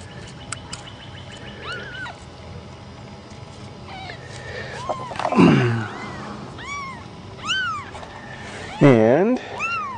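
Several high, wavering tabby kitten meows on a farm, some overlapping, close by over a soft steady background.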